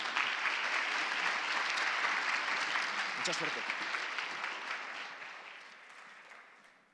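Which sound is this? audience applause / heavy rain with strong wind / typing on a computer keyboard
audience applause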